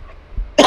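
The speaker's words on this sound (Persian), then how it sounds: "یه مدتی این سرفه ها همچنان ادامه داره" One sharp, close cough from someone with a cold bursts out after a short quiet pause, loud and raspy.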